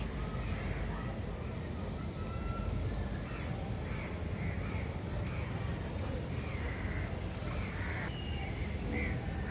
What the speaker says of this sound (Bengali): কাক বন্ধুরা তোমরা আস্তে আস্তে কোথায় যেতেছো হারিয়ে যেতেছো কেন